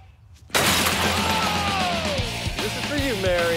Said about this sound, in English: We've just destroyed Travis's car front windshield